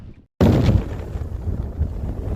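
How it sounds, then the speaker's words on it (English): Strong wind whips up the side of a seaside rock on the Cornish coast, buffeting the microphone with a loud, low roaring rush that starts abruptly after a brief quiet moment and keeps gusting. "this wind's really whipping up the side of this rock"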